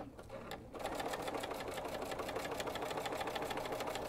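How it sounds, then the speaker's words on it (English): A sewing machine stitches fabric for a mastectomy heart pillow, running steadily with a rapid even needle rhythm after a brief start, close and continuous. "I'm going to get that sewn in place"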